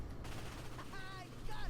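Cannon fire in the video game Ratchet & Clank (2016): short booming blasts over a busy game soundtrack, with a voice briefly audible.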